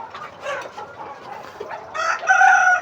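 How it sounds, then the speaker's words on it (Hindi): Chickens, both roosters and hens, cluck continuously nearby, with a rooster's crow breaking through near the end over the busy flock. "इसमें मुर्गे भी हैं और मुर्गियां भी हैं।"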